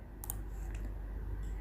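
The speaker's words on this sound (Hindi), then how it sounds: "दोबारा इफेक्ट पे क्लिक करें" A few sharp clicks come from tapping options in the Kinemaster video editing app, a quick pair early and a softer click later, over a low steady hum.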